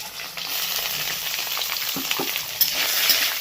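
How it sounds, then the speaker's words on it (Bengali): Ginger paste and chopped onion frying in hot oil, a dense, continuous sizzle up close with a few soft stirring scrapes and one sharp tap toward the end, no voices. "পেঁয়াজটাকে হালকা ভেজে নিয়ে"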